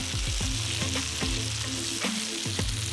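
Almond-flour breaded chicken pieces fry in a foamy pan of oil with a steady, close sizzle, and soft knocks sound as the pieces are gently turned over.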